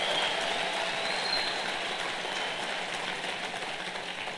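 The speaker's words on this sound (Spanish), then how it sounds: "Dele un fuerte aplauso al Señor." A church congregation applauds, a soft, even patter of many hands clapping that stays level and slightly distant throughout.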